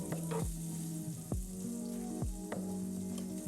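Beef stew meat browns in a pan before going into a crock pot with red wine. A soft, steady sizzle and frying crackle plays quietly and close, broken by a few faint clinks of stirring, with no talking.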